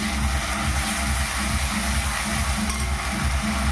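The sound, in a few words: bay leaves, ginger-garlic and onion paste frying, stirred in pan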